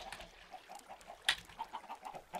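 Chickens in a chicken coop cluck softly in a steady run of short, repeated calls, with one brighter, louder squawk partway through and a low ambient hum underneath.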